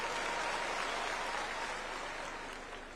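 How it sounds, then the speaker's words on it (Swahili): Crowd of village elders and guests applauding at a State House gathering, a steady wash of clapping that holds evenly and fades slightly toward the end, fairly distant and without talk. "Tupigie makofi Mheshimiwa Oburu Oginga"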